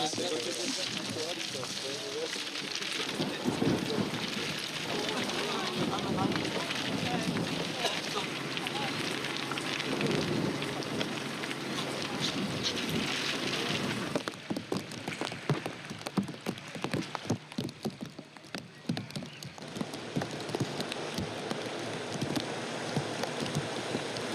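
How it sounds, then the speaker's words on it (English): Steady rain pours outdoors on a film set, a dense continuous hiss with some wind noise, while people talk over it throughout. "Oh God, it's raining."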